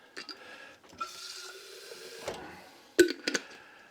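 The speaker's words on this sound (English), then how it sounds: "Put just enough water in the jar to get the rest of that goodness out of there." Water is poured into a glass pasta sauce jar in a home kitchen: faint sloshing and trickling close by, ending in a few sharp clinks and splashes.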